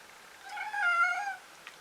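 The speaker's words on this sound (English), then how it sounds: "My cat says hello." A house cat gives a single drawn-out meow, clear and fairly close, in a quiet room with nobody speaking.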